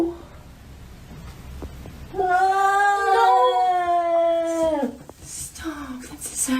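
A cat gives a drawn-out, mournful howl that swells and holds for about three seconds before fading, followed by a brief softer cry; the wail is close and loud.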